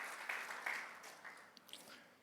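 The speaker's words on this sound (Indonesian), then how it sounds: "Boleh kembali tepuk tangan bagi Tuhan Yesus." A church congregation at a Sunday worship service applauds, a faint, fairly even patter of clapping that fades gradually over a couple of seconds with no voices.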